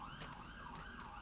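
Distant emergency sirens wail faintly across a city, a soft rising and falling tone drifting under steady background hum.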